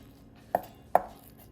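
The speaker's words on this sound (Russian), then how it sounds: "И нарезаем мясо мелко-мелко, настолько мелко, насколько сможете." Two sharp, separate knife strikes on a cutting board as slightly frozen meat is chopped very finely, spaced about half a second apart in an otherwise quiet kitchen.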